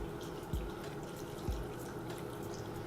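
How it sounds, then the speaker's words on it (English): Mushroom stock is poured into a pan for a vegan spaghetti squash alfredo casserole, making a faint, steady trickle throughout with two soft low thumps. "I will be putting a little bit of mushroom stock into my thing to keep it moist and to cook it"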